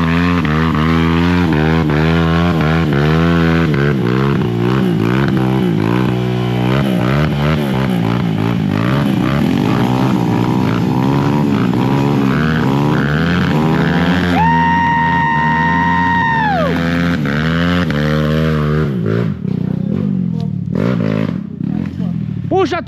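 A motorcycle engine on a trail ride, starting to break down, revs and drones up and down nearby, with a steady whining tone rising briefly midway, while people talk over it.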